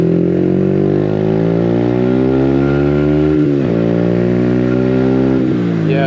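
A Yamaha MT-125 motorcycle accelerates hard through the gears, its loud, close engine note climbing steadily and dipping briefly at two quick gear changes, with no talk over it.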